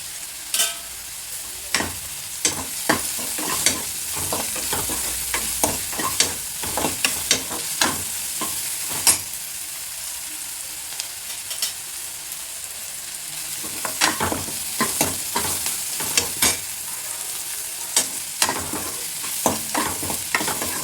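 Onions being sautéed with turmeric powder in a pan for yogurt pachadi, a steady close sizzle broken by repeated scraping stirs of a spoon against the pan, with no voices.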